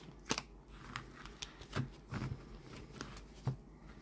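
Crisp papery flicks and light slaps of stiff, glossy, flexible tarot cards being fanned and handled up close, in several separate bursts with quiet gaps, no voices.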